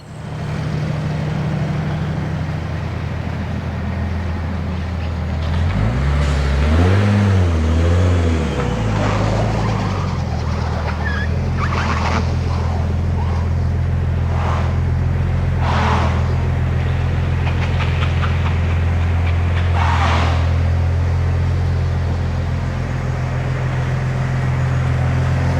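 A car cruises along the road with a steady low engine drone and road rumble heard from inside, with a brief rise in revs early on and no talking.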